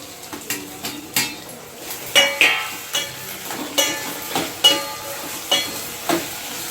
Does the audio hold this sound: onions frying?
yes